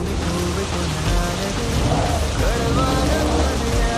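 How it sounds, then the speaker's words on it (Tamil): Steady rain in the Truckers of Europe 3 driving game, a dense, constant hiss with a low rumble underneath, loud and unbroken throughout. "மறுபடியும் முடிக்கும் போது மழை, ஆரம்பிக்கும் போதும் மழை, முடிக்கும் போதும் மழை."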